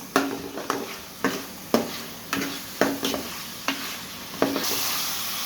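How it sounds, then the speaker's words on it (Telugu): Chicken with turmeric and salt sizzles in a pan while a utensil stirs it in about nine regular scraping strokes, each stroke a sharp clack followed by fading hiss, ending in steady frying. "పసుపు ఉప్పు వేసుకున్న తర్వాత చికెన్ అనేది మంచిగా ఫ్రై అవ్వాలి."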